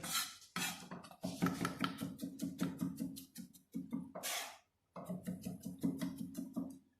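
A knife taps and rattles rapidly on a board as it chops garlic very fine, in quick bursts of dense clicks separated by brief pauses, close and clear with no talking.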